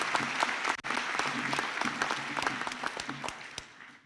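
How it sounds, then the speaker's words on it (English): Graduation ceremony audience clapping for a graduate, a moderate round of individual claps with distinct sharp hits, steady and then thinning toward the end. "And I ask you to give him a round of applause."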